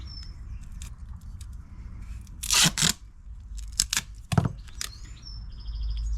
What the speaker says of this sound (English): put a bit of duct tape on this to protect the pipe from corrosion